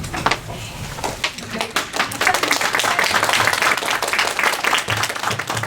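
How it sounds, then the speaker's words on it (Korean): A room full of listeners claps together at a novelist's reading and author-talk event, a dense, steady burst of applause lasting several seconds at even strength. "우리 수고해주신 우리 세 분께 다시 한번 박수 보내주시면 감사하겠습니다"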